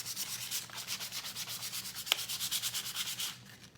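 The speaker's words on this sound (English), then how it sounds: "And any sandpaper will work on this." Steady back-and-forth scraping of sandpaper on wood, rhythmic strokes about three per second, close and fairly loud, with one brief sharp click partway through.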